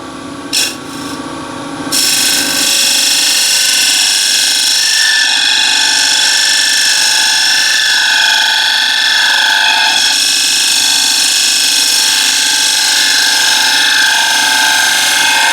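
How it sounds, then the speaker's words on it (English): A freshly sharpened bowl gouge takes a slow final pass along the rim of a wooden bowl, giving a steady, close, rasping cut that runs unbroken after a brief start, with no talking. "just touch up the gouge now for the last pass"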